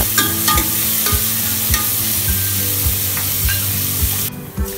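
Onions sizzle and fry steadily in hot oil in a pressure cooker, with rhythmic scraping thuds of a spoon stirring the pan, close and loud.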